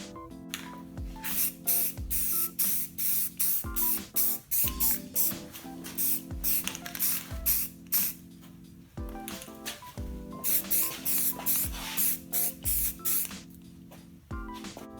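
Spray paint hisses onto a vehicle emblem in a series of short and longer bursts, close and fairly quiet, with brief pauses between passes.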